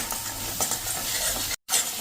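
Ground coriander-cumin and turmeric sizzle in hot oil in a pan for a spinach and gram-flour dumpling curry. The steady frying hiss is close and busy for about two seconds, with a brief drop near the end.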